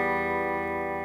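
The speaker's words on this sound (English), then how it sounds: "This is a real subtle effect, but what I like about it is when you're running it through distortion, it has a tendency to kind of sit within the distortion." Electric guitar chord rings through a Danelectro Vibe pedal set subtly with distortion, a sustained, even, close tone holding steady for about a second with a faint wavering shimmer.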